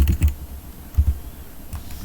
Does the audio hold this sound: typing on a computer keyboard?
yes